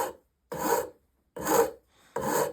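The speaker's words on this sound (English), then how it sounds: "Shinto rasp" A Shinto rasp files a wooden foot stool tenon in three separate dry, rasping strokes, each about half a second long with short pauses between them, close and fairly loud.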